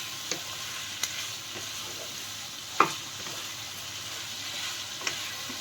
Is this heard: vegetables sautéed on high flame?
yes